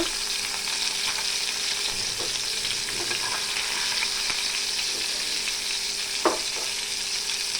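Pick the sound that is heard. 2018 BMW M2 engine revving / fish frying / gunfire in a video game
fish frying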